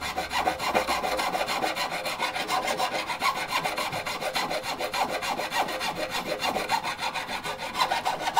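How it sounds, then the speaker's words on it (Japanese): Steady, continuous rasping of a file shaping the top of a guitar nut, a dense rhythmic back-and-forth scrape close up with no talking. "こう今ナットの真上を削ってるんですけれど"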